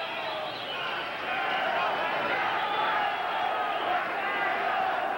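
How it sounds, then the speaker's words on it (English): A boxing arena crowd roars at round 11 as two fighters come out of their corners, a broad sustained wash of noise that swells slightly and holds, with a commentator talking over it. "Crowd roaring as the two come out of their corner."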